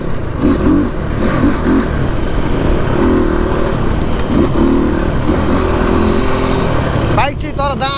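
A motorcycle riding along a road at night, its engine droning loudly and steadily close by with wind rush throughout and a short burst of other sound near the end.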